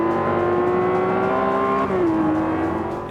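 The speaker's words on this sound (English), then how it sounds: "listening to the rumbles and purrs of each machine's distinct engine" A race car engine in Forza Motorsport 5 drones at steady, high revs, then its pitch dips briefly and settles a little lower, loud and close with no voices.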